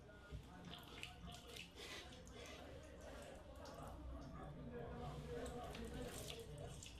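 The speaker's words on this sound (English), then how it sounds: "wudu begins by washing the hands 3 times under running water." Running tap water pours steadily as hands are washed for wudu. The stream is faint and continuous, with a soft splashing texture and a voice speaking over it.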